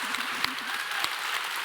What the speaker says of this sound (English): Let's give another round of applause to Ryan and Jen.